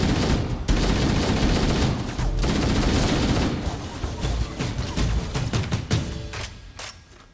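Human weapons firing in Halo: Combat Evolved, a loud, sustained fusillade of rapid machine-gun bursts and overlapping shots with dense, chaotic rhythm that thins slightly toward the end.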